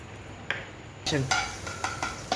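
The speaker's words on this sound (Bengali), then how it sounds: "এবার এর মধ্যে আমি ডিমটা একটু ফাটিয়ে দিয়ে ডিমের ঝোড়াটা করে রাখবো।" An egg is scrambled in a frying pan with a little oil, a soft sizzle under a string of sharp scraping and tapping strokes from the utensil against the pan.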